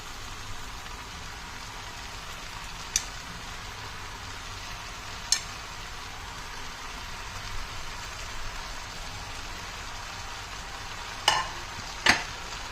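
Capsicum masala curry being stirred in a pan, a soft steady frying sizzle running throughout with a few sharp clinks of the spoon against the pan, no voices.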